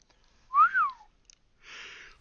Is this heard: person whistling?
yes